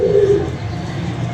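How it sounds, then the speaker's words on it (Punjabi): A newly arrived pigeon gives a single soft, throaty coo right at the start, near and fairly loud, followed by a dull murmur of background noise. "ਇਹ ਫਿਰ ਦੂਸਰਾ ਔਰ ਬਿਲਕੁਲ ਨਵਾਂ ਕਬੂਤਰ ਜੀ ਮਾਸ਼ਾਅੱਲਾ"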